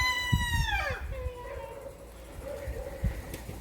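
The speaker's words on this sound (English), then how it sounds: "I guess the chickens are talking to me." A rooster-like call with falling harmonics opens, followed by a few soft clucks and low chicken chatter nearby.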